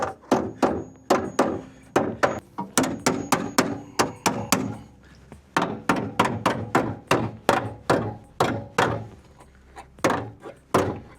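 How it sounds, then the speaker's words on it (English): Repeated loud hammer blows on a metal Mazda MX-5 NC wheel arch panel, sharp clanging strikes in irregular bursts, close by and ringing briefly after each hit. "Just gonna have to try and hammer it all back."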